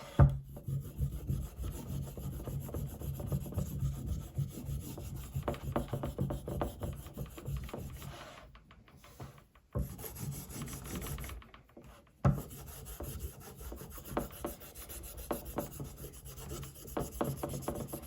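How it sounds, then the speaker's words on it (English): A stick of 12,000 grit compound rubbed onto a homemade leather strop, a steady close dry rasping in quick back-and-forth strokes, pausing briefly twice before resuming. "I'm gonna just load a little more compound on here."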